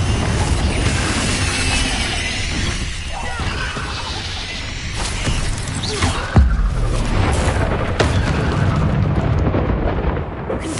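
Fiery spell blasts from the Confringo curse in the Hogwarts Legacy video game, a dense, continuous roar of explosions and crashing combat effects filling the whole stretch, with one sharper boom near the middle.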